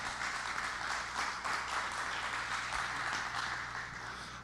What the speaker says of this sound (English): Let's give Joel a round of applause here